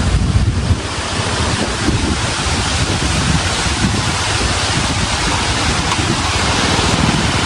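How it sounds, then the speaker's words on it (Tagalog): A steady, powerful wind rushes and buffets the microphone without pause, loud and close, with no voices. "Malakas pa rin po ngayon ng hangin."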